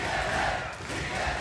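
A wrestling crowd at a World Tag Team title match at No Surrender cheers and shouts in a dense, steady roar of many voices that swells and dips slightly.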